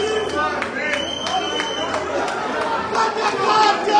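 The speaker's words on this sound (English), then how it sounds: "If you see how the crowd is going crazy" An excited crowd crowds around a draughts game, with dense chatter, shouts and hubbub up close and sharp clacks of pieces cutting through the noise.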